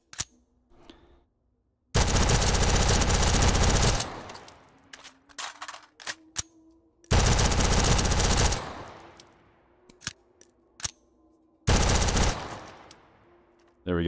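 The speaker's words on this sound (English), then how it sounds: "we've got the DD4 using the Gucci sound set. So let's hear what that sounds like." A DD4 rifle with a custom sound set fires in a video game, three long automatic bursts separated by pauses and scattered single shots, loud and close, each burst trailing off in a reverberant tail.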